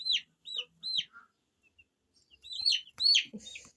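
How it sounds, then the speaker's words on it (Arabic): A four-day-old broiler chick chirping: a series of sharp, high peeps in quick bursts, close and fairly loud, with short pauses between calls. "فرخة معانا اهو بسم الله ما شاء الله."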